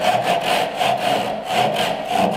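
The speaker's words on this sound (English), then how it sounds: "because the cuts are established using the miter jack saws, I just really need to extend them down to the baseline" Hand saw cutting wood to extend miter cuts for a mitered bridle joint with a full square mortise, steady back-and-forth strokes in an even rhythm, close and clear, with no talking.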